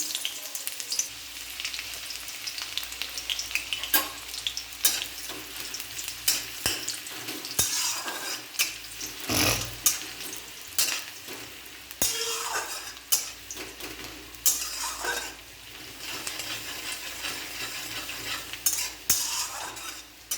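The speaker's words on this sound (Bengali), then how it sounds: "এই পেঁয়াজ কুচিগুলোকে লাল করে ভেজে নেব।" Chopped onions fry in a pan, browning for a green tomato bhorta, with a steady close sizzle broken by frequent metal clinks and scrapes of a spatula stirring against the pan.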